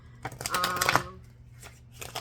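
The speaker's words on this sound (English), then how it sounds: "Throw these guys back in here. Let me shuffle them up." Tarot cards shuffled by hand, a few quick riffling bursts of papery flutter close up, with a brief pause between them.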